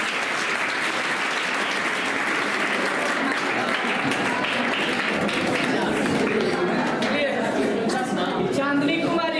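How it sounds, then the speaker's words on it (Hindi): A crowd at a tenth-grade results celebration applauds to welcome a student, continuous loud clapping throughout, with voices and some cheering mixed in. "तालियों के साथ स्वागत"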